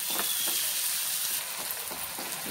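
Tomatoes with salt sauté in a pan for Tamil garlic chutney, making a constant close sizzling hiss with a few soft stirring strokes.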